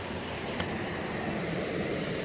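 Water sloshing and lapping along a shoreline on a nature walk, a steady broadband wash with low rumbling wind noise buffeting the microphone, constant throughout with no voices.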